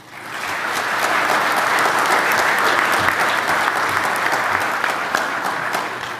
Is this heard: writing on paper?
no